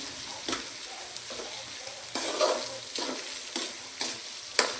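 Beef with flavor cubes fries in a pan under a steady sizzle while a utensil scrapes and stirs it in repeated strokes, close up, with no talking.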